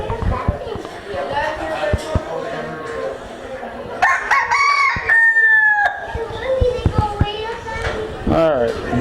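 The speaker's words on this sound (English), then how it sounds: "We have a rooster here who's wants everybody to know he's here, I guess." A rooster crows loudly and repeatedly, long rising calls among the cages at an FFA agricultural fair, with hens clucking, children and crowd chatter in the background.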